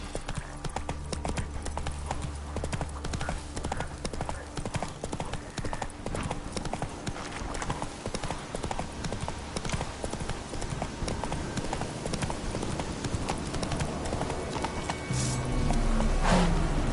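Roach the horse trotting in Witcher 3, a steady close clip-clop of hooves on ground running through the whole stretch, with faint game ambience and a brief voice under it.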